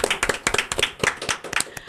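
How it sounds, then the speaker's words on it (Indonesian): Short burst of hand clapping from a small audience at an evening Catholic youth podcast recording; quick, dense claps fill the two seconds at close range. "Tepuk tangan dulu semuanya."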